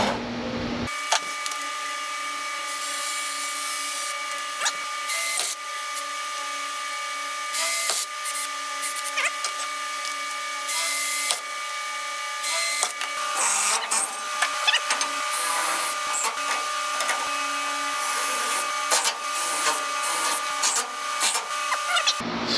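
Power drill boring holes, high-pitched whining bursts that start and stop repeatedly, with motor tones rising and falling over about twenty seconds, loud and close, without speech.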